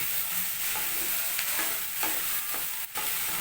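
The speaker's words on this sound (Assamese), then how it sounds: "গেছটো কমত চিমত থৈ পিনে মানে ভাজি থাকিব লাগিব" Okra frying in a little oil over low gas heat and being stirred in a pan: a steady soft sizzle with intermittent scraping stirs, close and continuous, no talking.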